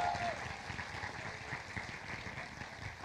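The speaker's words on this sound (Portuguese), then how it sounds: "Vamos dar um grande aplauso a estes apoiadores." Audience applause for sponsors at a K-pop gala event, a steady patter of clapping from a crowd, moderately loud and fairly constant, with faint voices mixed in.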